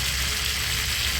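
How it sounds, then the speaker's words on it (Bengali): Pointed gourd pieces fry in oil with turmeric and salt, giving a steady, close, even sizzle with no pauses and no voices. "তেলে এগুলোকে হলুদ লবণ দিয়ে হালকা করে ভেজে নেব"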